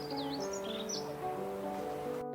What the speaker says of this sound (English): Birds sang at dawn, heralding the start of a new day.